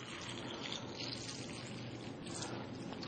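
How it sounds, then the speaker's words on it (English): Tap water pours steadily into a bowl of tomatoes, a soft continuous splashing trickle heard close with no voices. "we're just going to simulate that by pouring some tap water in here"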